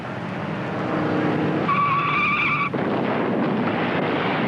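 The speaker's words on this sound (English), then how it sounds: "Pagan blew a tire, smashed through the guardrail, and rolled down the 40-foot embankment." Race car at the 1958 Southern 500 skids with a high tire squeal about midway, then the squeal cuts off into a rough roar of engine and impact noise, loud and close.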